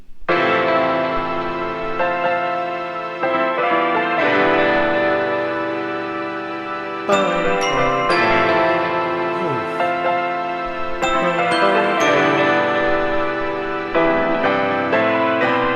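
A layered electronic beat of lush synth strings and chiming bells washed in echoing delay, playing continuously without any voices.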